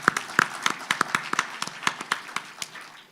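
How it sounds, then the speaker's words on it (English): Audience at a public medical faculty lecture bursts into scattered applause, a dense run of sharp individual claps at close-to-mid distance with no voices over it. "Can you give yourself a round of applause?"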